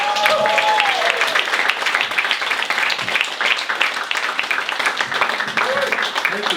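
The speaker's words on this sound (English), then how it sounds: "Give him a round of applause." An audience applauds for a speaker being introduced at a talk, a moderately loud wash of clapping that continues steadily and thins slightly toward the end, with a few voices rising briefly over it.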